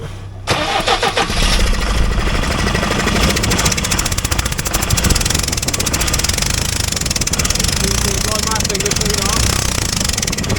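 Forklift engine cranked over during a fault check on its fuel pump, a loud, steady, rhythmic chugging of the starter turning the engine for about ten seconds, close and continuous.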